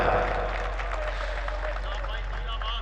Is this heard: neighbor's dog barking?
no